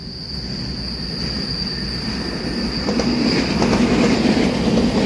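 A twelve-car EMU3000 electric multiple unit express train departs Hualien on the North-link line. Its steady rumble and clatter build gradually, with a high, thin wheel squeal running over the whole passage.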